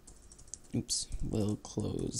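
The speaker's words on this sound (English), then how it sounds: "Typing's great today." Keys clatter on a computer keyboard during simple game coding in Notepad, a quick irregular run of light clicks heard close by with a voice talking over parts of it.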